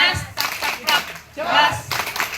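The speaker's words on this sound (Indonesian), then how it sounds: "Tepuk Mas Jos" Rhythmic group clapping for Mas Jos at a neighbourhood Tirakatan night gathering in Kampung Jogokariyan, Yogyakarta: short bursts of claps in a patterned cadence, mixed with chanting voices from the crowd.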